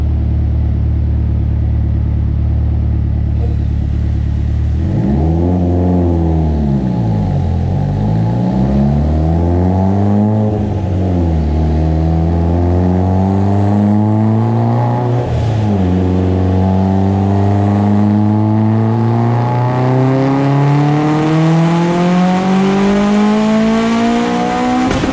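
Turbocharged Ford EF4 engine with a 2.0 LA sleeved block, Kelford B cams and a stock-location turbo, revving hard on a dyno at 27 psi boost; loud continuous engine roar sweeps up through repeated pulls, with no talk.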